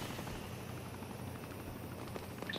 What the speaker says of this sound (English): Yo, why do we have a helicopter here?